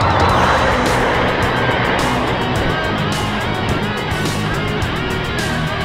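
Urban road traffic around a bicycle descending through San Bartolo Mixcoac, a steady loud wash of passing cars and engine noise with wind rushing throughout, no clear voice.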